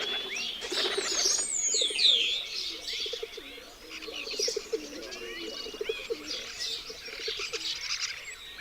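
Pigeons coo softly in low, rolling phrases at the old dovecotes of Villafáfila, with brighter chirps from other birds layered above, moderately close and continuous.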